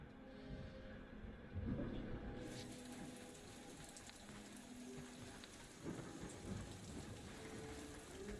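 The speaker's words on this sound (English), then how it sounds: "Peter Quill is dilly-dallying in the rain." Steady rain from a video game thunderstorm in Guardians of the Galaxy, a constant hiss with rumbling thunder underneath and a louder swell near the start.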